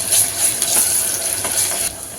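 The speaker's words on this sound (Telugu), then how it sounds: "ఒకసారి బాగా కలుపుకొని పచ్చివాసన పోయేదాకా వేగనిద్దాం." Ginger garlic paste fries in a pan with a steady close sizzle and brief scraping stirs, loud and continuous with no voices, while cooking goat intestine curry.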